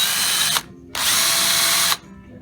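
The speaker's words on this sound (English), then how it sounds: "we're gonna sand them out with a power tool" A power tool sands out small imperfections on a car roof panel during bodywork restoration, two loud close whirring bursts, one short and one longer, separated by a brief pause in which only a low rumble remains.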